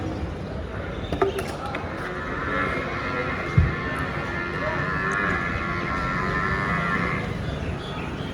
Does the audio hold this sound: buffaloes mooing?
yes